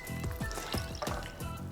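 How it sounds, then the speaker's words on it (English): Water poured to top off a jar of pickling vegetables, a steady gurgling fill with bubbling glugs repeating close by, alone without talk. "we're just gonna top it off with some water"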